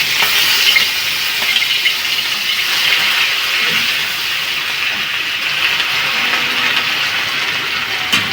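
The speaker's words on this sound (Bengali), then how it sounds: "কাঁচা তেলের মধ্যে আদা বাটা আর হিংটা দিয়ে দেবো" Ginger paste and asafoetida hit raw oil in a pan, giving a steady close sizzle and hiss that runs continuously with slight rises and falls, with no talking over it.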